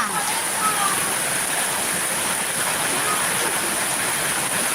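Heavy rain falls steadily in Surin, Thailand, a loud, dense, unbroken hiss of water that fills the whole scene without pause.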